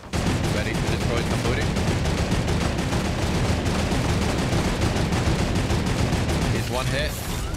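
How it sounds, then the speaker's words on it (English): Dense, continuous pistol gunfire crackles through a Fortnite Battle Royale match, shots overlapping in rapid bursts at a loud, steady level throughout. "Getting shot from above."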